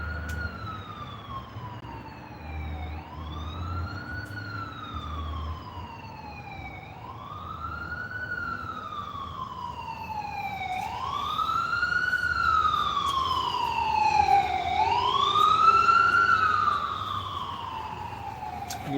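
An emergency vehicle siren on a street wails in repeated rising and falling sweeps, growing louder and closer over about twenty seconds above low traffic rumble.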